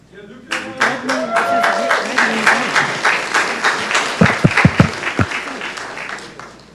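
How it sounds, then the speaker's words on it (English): Applause at a county board of commissioners meeting starts abruptly, a modest group clapping steadily for several seconds, with a few sharp, close hand claps standing out near the end and a voice briefly audible at the start. "a round of applause."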